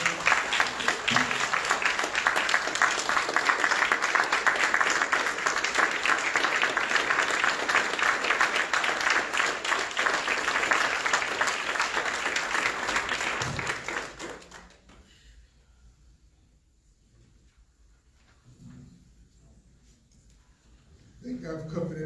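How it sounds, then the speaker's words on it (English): An audience at a dinner and discussion gives a steady round of applause for a pastor that keeps going for about fourteen seconds, then stops abruptly, leaving a hushed room. "give a round of applause for our pastor"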